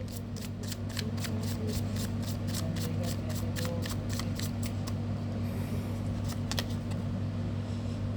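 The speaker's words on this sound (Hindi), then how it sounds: "Last shuffle." Tarot cards are riffled in a rapid run of crisp, evenly spaced flicks that stop partway, over a low steady electrical hum.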